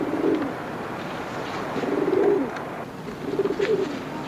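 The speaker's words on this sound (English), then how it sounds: "What about these pigeons?" Pigeons coo in soft, low, throaty bursts, three separate calls spaced a second or so apart, heard over a steady outdoor background hiss.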